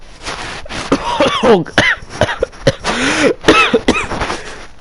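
A run of harsh coughs and throat clearing, close and loud, in several uneven bursts with short gaps between them.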